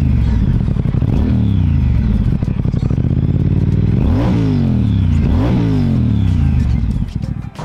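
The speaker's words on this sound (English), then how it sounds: "This one, of course, has got the stunning Vance and Hines exhaust on it." Triumph Speed Twin 1200 motorcycle fitted with a Vance and Hines exhaust, loud close revving with a burbling idle and several sharp throttle blips rising and falling, no talking.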